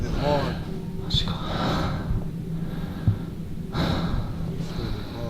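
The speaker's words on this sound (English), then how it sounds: "He's breathing hard." Heavy, labored breathing from a man hiding upstairs in a house, recorded on VHS, with snorts and gasps repeating in uneven bursts close to the mic, alongside faint footsteps and background talk.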